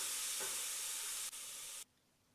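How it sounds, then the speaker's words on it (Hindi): Ginger and garlic frying with asafoetida in hot oil, a steady close sizzle and hiss that cuts off abruptly near the end, with no talking. "अदरक लहसुन, इसको भी हम अच्छे से भूनेंगे।"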